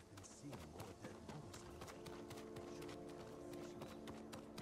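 Horse hooves clip-clop at a run in the samurai game Ghost of Tsushima, a steady drumming gait under a busy bed of game music and ambience, with voices talking over it.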